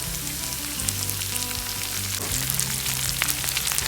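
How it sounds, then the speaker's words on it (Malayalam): Sliced onions fry in oil with crushed garlic, ginger and pepper for a Kerala beef liver pepper fry, giving a loud, continuous close sizzle with faint crackles and a low hum beneath. "ഇതിലേക്ക് 2 സവാള അരിഞ്ഞ് വെച്ചതും കൂടി ഇടാം."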